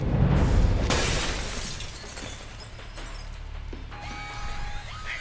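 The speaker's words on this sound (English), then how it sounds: "you might be able to find a way to break the glass" Glass shatters in the video game Alpha Protocol, a sharp loud crash at the start that decays into a lingering rumble, followed near the end by faint electronic beeps.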